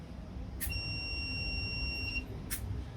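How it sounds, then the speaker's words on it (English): A continuity tester gives a steady high-pitched electronic beep for about a second and a half when its leads touch, with two short clicks around it, over low background noise. "when these two touch, we hear a beep."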